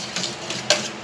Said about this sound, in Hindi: अब इसको हिलाते रहना है जिससे ये आटा मिक्स हो जाए।